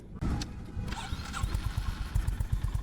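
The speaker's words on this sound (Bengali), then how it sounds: "আমি আপনাদের স্যালেন্সারটা একটু শোনাই" A Honda CB 350 RS motorcycle (2025) is started up close by, and its exhaust settles into a deep, even idle of low thumping pulses that grow steadily more distinct.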